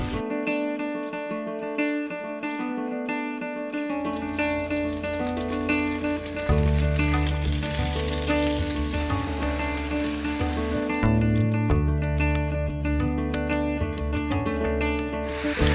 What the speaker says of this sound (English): We're gonna saute these off in some butter and some oil first